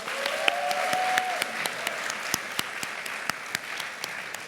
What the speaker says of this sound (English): Please join me in another round of applause for Thao and Catherine.